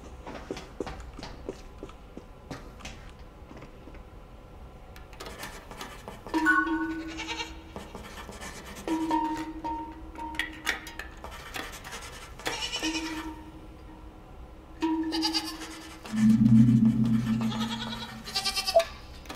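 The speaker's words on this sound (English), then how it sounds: "Not sure why the cursed sword sounds like a goat," A cursed sword in the horror video game Video Horror Society gives goat-like bleats, several wavering cries spread over the stretch, loud and close, over quiet game ambience.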